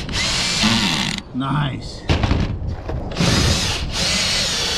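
A power drill drives larger sealing screws into a metal roof in several close whirring bursts that rise and stop, with someone speaking briefly between them.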